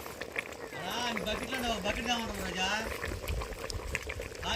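Chicken curry bubbling steadily in a pot, a continuous wet boiling hiss with a voice talking over it throughout.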